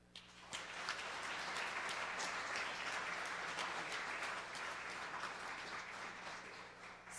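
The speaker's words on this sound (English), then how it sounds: "I will give everybody in the room one more round of applause" Full-room applause at a 2023 startup pitch competition, dense and even clapping that carries steadily through the clip.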